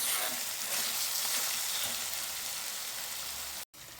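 Peanuts fry in hot tempering oil with spices while being stirred. A steady, close hiss of sizzling runs throughout and cuts out briefly near the end.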